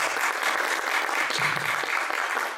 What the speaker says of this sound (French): Et je voudrais l'applaudir